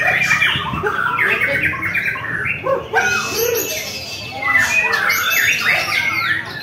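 A coneng songbird kept in a cage gives repeated squawking calls and chirps, loud and close, with rustling and other bird sounds layered over a busy background.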